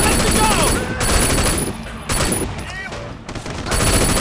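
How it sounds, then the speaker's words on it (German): Enemies open fire in Sleeping Dogs: repeated bursts of gunfire come in several clusters across a few seconds over a dense, noisy game background. "Ey, alle, warum schießen die auf uns?"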